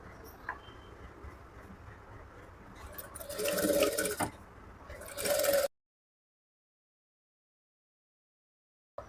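A sewing machine stitches a half-inch dart in thin cloth for a puff sleeve, running in two close bursts of whirring, the second louder and abruptly cut off, followed by silence.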